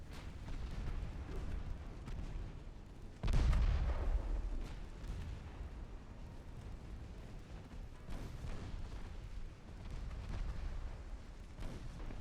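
Heavy naval main guns boom in Ultimate Admiral Dreadnoughts, a US warship battle game: one deep, loud blast opens a long rumbling tail, with fainter distant booms rolling underneath.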